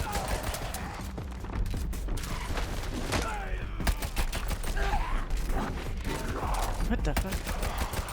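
Gunfire aimed at the player in FBC Firebreak, a steady fusillade of rapid shots mixed with mechanical clatter, loud and sustained, while a voice talks intermittently over it.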